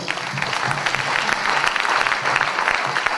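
A church congregation applauds together in dense, continuous clapping that stays loud and even throughout.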